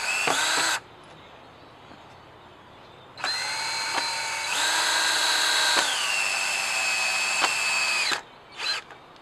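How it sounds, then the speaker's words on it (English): A power drill bores holes into 2x4 lumber while assembling a square foot garden bed, with several loud whining bursts of the motor, one long stretch changing pitch midway, then short trailing spins. "So next we're going to start drilling some holes and then putting some screws in."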